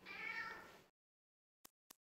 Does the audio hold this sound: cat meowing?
yes